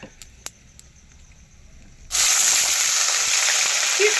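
Kasuri methi leaves, cardamom and cloves dropped into hot oil burst into a loud, steady sizzle midway through, after a quiet stretch with a few faint knocks.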